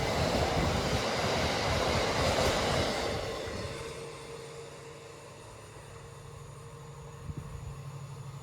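A Transpennine Express train arriving at a platform at Oxenholme in the Lake District, a loud rumbling roar with rail clatter that gradually eases into a lower steady hum as it slows, with one brief knock near the end.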